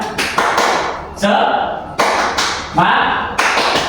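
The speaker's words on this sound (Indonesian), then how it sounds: "jadi tepuk semangat nanti kayak gini contohnya" A classroom group performs a rhythmic 'tepuk semangat' spirit clapping routine in Indonesia, with sharp clap bursts landing in a steady repeating pattern roughly every half to one second while voices chant along throughout.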